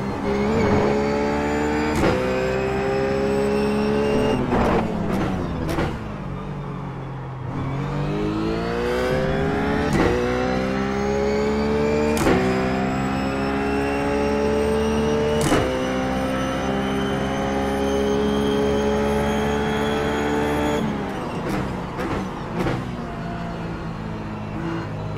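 A Ruf GT3 race car at Laguna Seca in iRacing revs hard through the gears, engine note climbing in long sweeping pulls with sharp shift breaks, loud and close with no talk.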